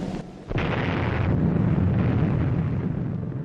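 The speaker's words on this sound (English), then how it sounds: "This footage is of nuclear testing conducted during the Cold War in the Marshall Islands." A Cold War nuclear test bomb in the Marshall Islands explodes after a brief quiet moment, becoming a sudden, sustained roaring rumble that continues for several seconds with no voices.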